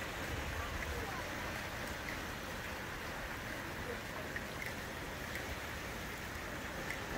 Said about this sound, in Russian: В Анталии идет дождь. Анталийский ливень.